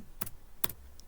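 A few keystrokes typed on a computer keyboard while coding in VS Code, two crisp close clicks followed by a fainter tap in an otherwise quiet room.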